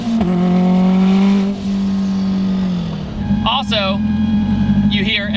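A 1000HP Subaru STI accelerates with a loud, droning engine note that climbs and shifts, nearby and strong throughout, while voices speak over it in places.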